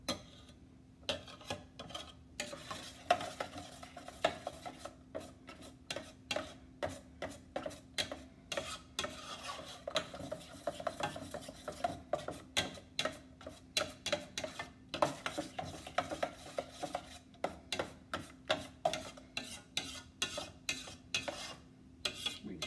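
Spoon stirring and scraping the sides of a pan of melting butter and cocoa for Hershey's chocolate frosting, a soft, steady sequence of rhythmic scrapes and clicks close by, with no talking.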